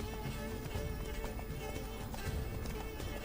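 Horse hooves clip-clop quickly and steadily in The Witcher 3: Blood and Wine. The hoofbeats sit beneath a dense, loud bed of game music and ambience that continues without a break.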